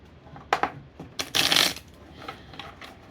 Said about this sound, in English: You shuffle 3 times, you cut 3 times.